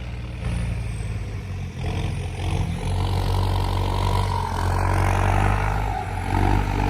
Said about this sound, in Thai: รถไถเนี่ยจะเป็น ฮอลแลนด์ นะครับ นิวฮอลแลนด์ TD 95D นะครับ 95 แรงม้า